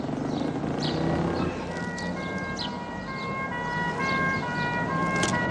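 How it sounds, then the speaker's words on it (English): A wailing emergency siren rises and falls over heavy traffic noise, sounding moderately distant and steady throughout. "Ambulance?"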